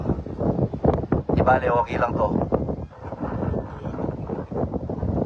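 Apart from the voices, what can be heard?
strong wind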